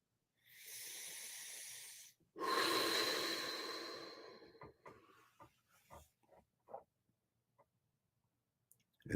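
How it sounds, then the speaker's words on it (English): A person does a double breathing exercise, two long, loud breaths in quick succession, followed by softer scattered exhales, small clicks and mouth noises that fade into near silence. "Now you do a double breathe again."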